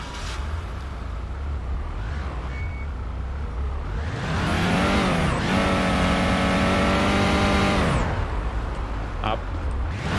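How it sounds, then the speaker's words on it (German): A loud car in the police driving game Police Simulator: Patrol Officers, its engine revving up hard and roaring for several seconds at close range before dropping back, with faint beeps and steady road noise throughout. "Boah, ist die Karre laut."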